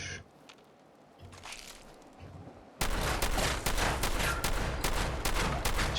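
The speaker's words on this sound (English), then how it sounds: "Just empty the mag, then reload." Sustained rapid gunfire from a magazine being emptied in Fallout 76, a dense burst of shots starting abruptly after quieter background action and running steadily to the end.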